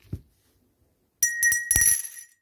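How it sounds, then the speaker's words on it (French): A small bell rings out clearly in a few bright, ringing strikes that shimmer and sustain, loud and close after a brief soft knock and a stretch of near silence. "J'adore cette cloche."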